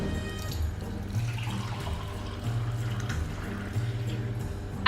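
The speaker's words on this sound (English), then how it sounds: "Then I'm going to pour my non-alcoholic mulled wine." Non-alcoholic mulled wine pours into a mug, a soft liquid trickle with low gurgling pulses, close and fairly quiet, with no talking.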